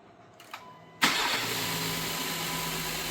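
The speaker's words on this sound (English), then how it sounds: "let's start the engine with the new parts" A 2016 Acura MDX engine cranks and catches after a serpentine belt tensioner replacement, a sharp start followed by a steady, even idle close by, preceded by faint clicks.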